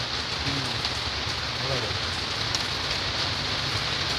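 First rain falling, a steady dense hiss of rain on surfaces filling the whole clip, with faint voices beneath.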